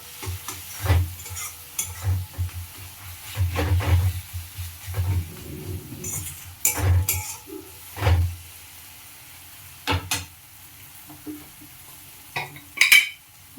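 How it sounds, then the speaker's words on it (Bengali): Spices for an egg curry cooked in a little oil, stirred in a pan: intermittent scraping strokes of a spoon against the pan with a soft sizzle underneath, close and moderately loud, no talking. "মশলা কষানো হচ্ছে"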